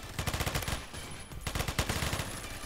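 Rapid automatic gunfire from a gun in the Phantom Forces shooter game, two fast bursts of sharp, evenly spaced shots, loud and close, split by a short pause.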